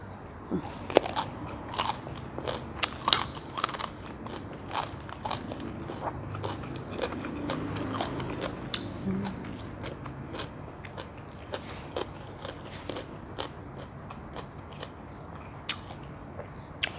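Crispy fried fish and fried chicken skin, eaten with spicy papaya salad and sticky rice, are bitten and chewed up close in a steady run of sharp crunches for the whole stretch, with no talking.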